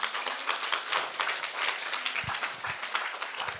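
A worship congregation at a mountain prayer-retreat service breaks into steady, dense applause that fills the room for a few seconds, with no voices over it.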